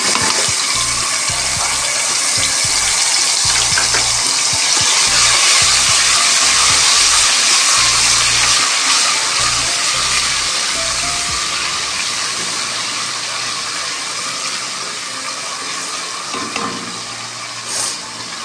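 Garlic ginger paste goes into a hot pan and sizzles loudly in a broad, rushing hiss that swells in the middle and then slowly fades away.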